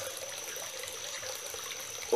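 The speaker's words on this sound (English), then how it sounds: "We got water saved up in the waterfall because obviously the tank is full." Water trickles steadily from a home waterfall feature, a soft, even splashing close by with faint background noise and a brief louder knock at the end.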